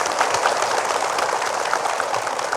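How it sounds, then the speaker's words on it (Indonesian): Studio audience in an Indonesian religious TV talk show clapping on cue, a loud, even wash of applause that carries steadily from start to finish without speech. "Boleh tepuk tangan."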